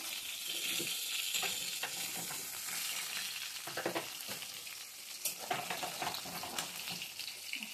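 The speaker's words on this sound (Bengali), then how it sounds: "এইরকম করে সব মাছগুলো ভেজে নেবো" Oil crackles and spits steadily around bhola fish frying in a pan, with sharper pops and bursts of sizzle rising and falling, heard up close without talk.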